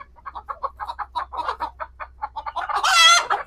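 A country hen clucks in short, rapid bursts while being held down for a Ranikhet vaccine drop, then lets out a louder, longer squawk near the end, close and clear.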